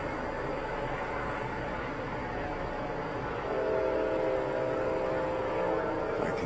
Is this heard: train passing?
yes